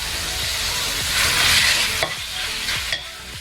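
Ground beef frying in a pan, a steady close sizzle with spatula stirring and scraping strokes near the end, no talking.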